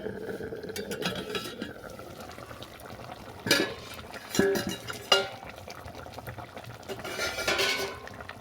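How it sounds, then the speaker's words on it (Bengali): A metal lid is lifted off a pot of khoira fish chochchori, giving a few sharp, close clanks and clinks over the faint sizzle and bubbling of the cooking curry. No one speaks. "পাঁচ মিনিট পর চাপাটা খুলে নিচ্ছি"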